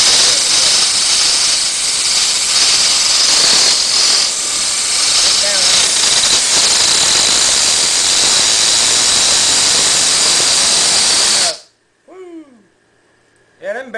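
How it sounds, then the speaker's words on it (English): Bearings of an AC induction motor being converted into a permanent magnet generator spin with a loud, steady hiss for about eleven seconds, then stop abruptly, leaving a quiet background with faint voices. "them bearings spin pretty good"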